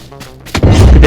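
A single heavy gunshot booms out in the battle royale game PUBG, following a quieter stretch and ringing on loud to the end.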